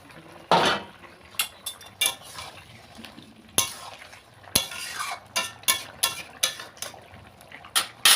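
A pot lid is lifted and fish goes into a simmering curry with drumsticks, heard as a series of close metallic clinks and clatters with a faint bubbling sizzle underneath.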